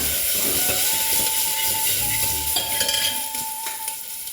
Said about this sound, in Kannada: ಒಂದು ನಾಲ್ಕು ಬೆಳ್ಳುಳ್ಳಿ ಸ್ವಲ್ಪ ಫ್ರೈ ಮಾಡ್ಕೊಳ್ಳೋಣ ಇದನ್ನ